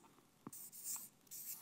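A marker writing a word on a board at a business conference talk, quiet squeaky strokes in short bursts with small gaps, close and alone without speech.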